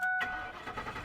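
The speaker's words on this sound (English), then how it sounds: "It starts, runs a little rough." A Ford F-150 pickup with the Triton engine and 135,000 miles cranks and catches, a brief burst of starter and engine noise that settles into a rough, uneven running sound nearby.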